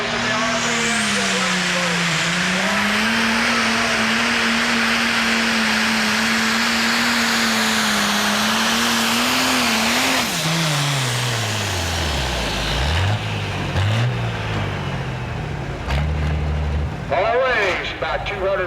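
An RC-engine pulling tractor roars loud and steady at the Darke County Fairgrounds, its engine drone rising and wavering, then dropping in pitch near the end as the pull slows, with an announcer talking over it throughout.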